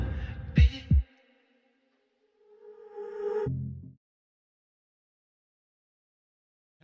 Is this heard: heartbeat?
yes